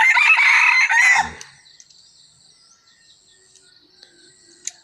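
A loud, close rooster crow lasting about a second, then near silence with faint chirping insects and a small click.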